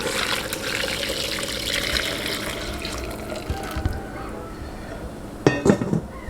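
Liquid poured onto oxtail in a pressure cooker while making Jamaican oxtail: a steady trickling pour that thins out, followed by a few sharp clanks and knocks of the pot, close and without talk.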